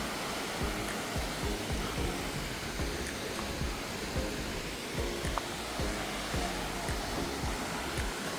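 Suok waterfall in Goesan rushes in a steady, loud, broadband roar of falling water, continuous and close with no voices.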